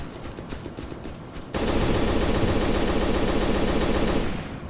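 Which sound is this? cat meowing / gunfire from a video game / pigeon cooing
gunfire from a video game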